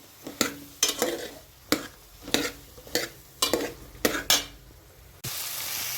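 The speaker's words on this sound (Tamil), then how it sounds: "இப்போ காய்கறி சேர்த்தாச்சு. கொஞ்சம் நேரம் வதங்கட்டும்." Vegetables sauté in a pan with softened tomatoes for South Indian sambar: a soft background sizzle broken by about eight sharp scraping stirs at irregular intervals, then a louder, steady sizzle at the end.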